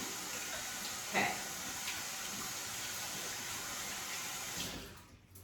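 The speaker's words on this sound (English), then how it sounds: "let me wash my hands real fast" Tap water runs steadily at a sink during handwashing in a home kitchen, a continuous hiss with a brief splash or clatter partway through, then cut off near the end.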